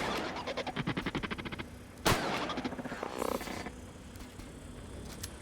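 Rapid automatic gunfire from The Outer Worlds, a burst of evenly spaced shots followed by a sharp blast and scattered mechanical clatter, fairly quiet in a game mix with no talk.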